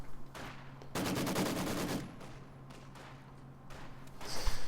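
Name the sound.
heavy machine gun fire, from Company of Heroes 2 video game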